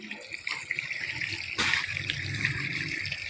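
Water gushes and splashes from a borewell pipe in a steady, rushing stream that grows a little stronger partway through, with outdoor background noise.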